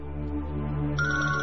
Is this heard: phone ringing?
yes